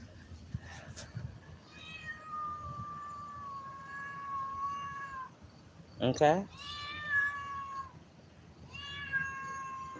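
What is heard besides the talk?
cat meowing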